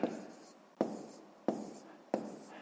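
Numbers being written by hand during a math exercise make four distinct scratchy strokes, spaced evenly and heard up close with no talking.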